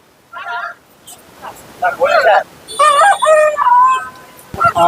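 A rooster crows loudly nearby at a market in Kunnathur, in drawn-out, wavering calls, with a short squawk before and a brief knock at the end.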